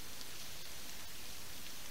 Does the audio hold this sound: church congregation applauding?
no